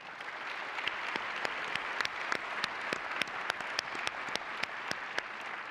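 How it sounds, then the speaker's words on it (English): An audience at the PCMA Foundation Visionary Awards ceremony applauds in tribute, a steady, fairly distant wash of many hands clapping at an even level for several seconds without speech. "please give him a round of applause"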